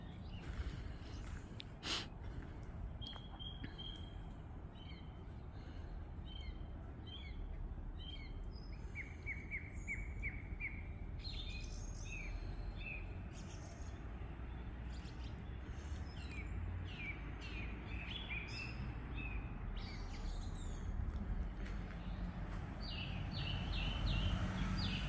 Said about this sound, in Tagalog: Pakinggan lang natin mga huni ng ibon.